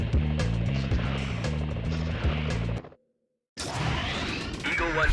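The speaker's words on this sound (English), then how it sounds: "Whoa, police choppers." Police helicopters in the PS1 Spider-Man video game give a loud, pulsing rotor chop that breaks off into a brief silence, then returns with swooshing game effects.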